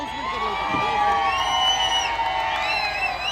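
A large crowd at a bodybuilding competition cheers and shouts loudly and continuously, with whoops and high-pitched yells rising over the dense roar.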